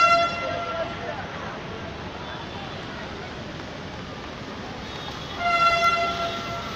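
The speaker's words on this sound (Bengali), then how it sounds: "বললাম না, খুব শীঘ্রই চালু হবে ট্রেনটা" A Kolkata East-West Metro train at Salt Lake gives a steady rolling rumble, with bright horn tones sounding near the start and again near the end.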